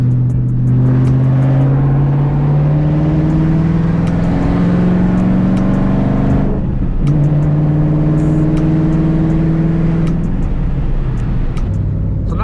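A loud, deep Shelby GT500 engine with a straight-piped open exhaust revs up twice, rising and falling close by with a rough, rumbling roar.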